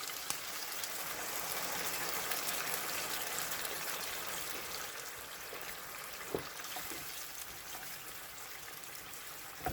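Leftover pressure-cooker liquid is strained and poured over beef being cooked for kavurma, a soft continuous splashing trickle heard up close with a few faint clinks, no speech.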